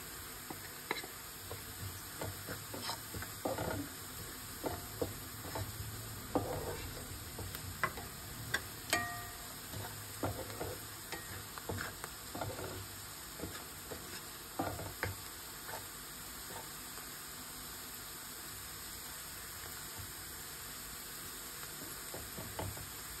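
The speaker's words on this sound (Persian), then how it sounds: "بذاریم خیلی خوب سرخ بشه" Onions fry in oil in a pan for a fish ghalieh stew, giving a steady sizzle broken by scraping, knocking strokes of a utensil stirring them, close and continuous.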